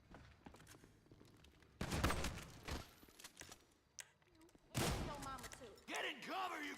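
Gunfire in the video game GTA Online comes in two loud bursts separated by quieter gaps. Voices talk near the end.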